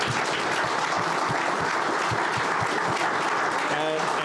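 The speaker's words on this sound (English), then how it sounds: "just one final round of applause, please, for Daniel Hannan," Audience applause at a book launch, a steady wash of clapping carried under a voice that talks over it, with the crowd continuing throughout.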